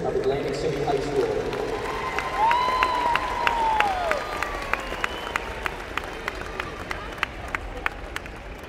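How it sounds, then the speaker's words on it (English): Audience applause for the teachers at the Atlantic City High School Class of 2023 graduation, a crowd's clapping and cheering fading out, leaving scattered sharp claps as a voice rises over the room. "One more big round of applause for the teachers of Atlantic City High School."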